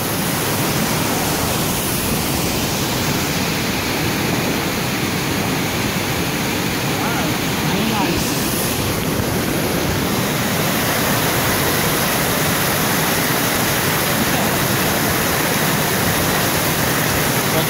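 Kuang Si waterfall in Luang Prabang, Laos, roars as a dense, continuous rush of falling water, loud and close, steady throughout with no break.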